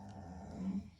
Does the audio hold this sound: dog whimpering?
yes